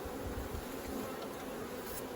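A bee buzzes steadily while crawling inside a claw, a continuous close hum that stays even throughout with no voices.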